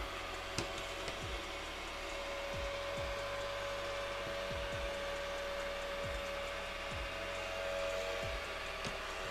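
Ecovacs Deebot X1 Omni robot vacuum driving back to its docking station to clean its mop pads, a faint steady motor whir with a series of soft low thumps and clicks repeating every second or so.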